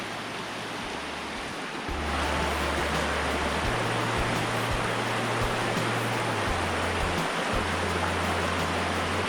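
A creek flowing beside a woodland trail at Billy Creek Recreation Area, a loud and steady rush of water that swells a little after the first couple of seconds and continues with no break, with no voices.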